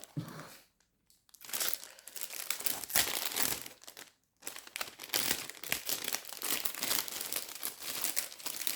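Paper wrapping crumpled and crinkled while a package is unboxed, dense rustling bursts with two brief pauses, fairly close and alone without talk.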